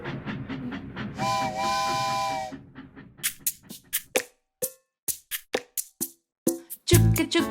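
A steam train whistle within a children's song about a train, a sustained tonal blast over music, followed by a run of short rhythmic chuffing puffs, each separated by brief gaps.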